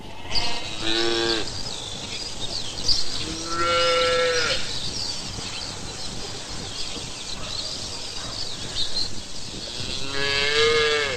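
Several cattle moo repeatedly, long low calls rising and falling, over a constant background of farmyard noise and sheep bleating.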